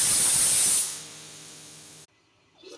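A pressure cooker holding dal and rice vents steam through its whistle. A loud, harsh hiss blasts for about a second, then fades to a quieter, steady rush before cutting off abruptly.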